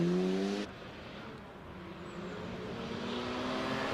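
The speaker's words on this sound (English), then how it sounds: "John Maycock hustles the MX-5 through S's" Mazda MX-5 racing up the Prescott hillclimb course through the esses, engine note loud and steady, dropping off after a moment and continuing as a sustained drone.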